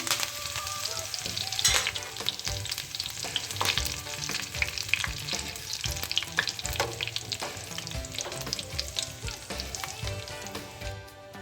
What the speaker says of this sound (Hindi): ये तमाम चीज़ें मैं इसी ऑयल में ऐड कर दूँगी। बस इन्हीं चीज़ों का हम बघार लगाएंगे